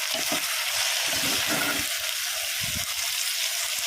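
A spoon stirs chili powder and salt into dal cooking in a pan, with steady broadband sizzling and a few short scraping, sloshing bursts, close and alone without talk.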